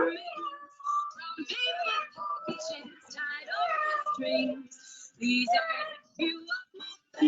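People imitate a kitten with a string of exaggerated, drawn-out meows and mews, close and clear, mixed in with some playful vocalizing.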